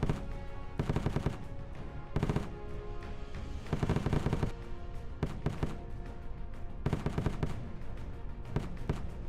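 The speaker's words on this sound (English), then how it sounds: "The walls of these houses are crumbling like sand under the fire of a Bushmaster gun." Bushmaster autocannon fire hitting houses in a war zone comes as rapid bursts of heavy shots, several volleys repeating every second or two against a constant rumbling background, loud and echoing.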